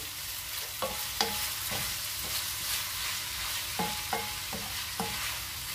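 Soy vermicelli is stirred in a hot frying pan, a continuous sizzle punctuated by a handful of distinct spoon scrapes and taps against the pan.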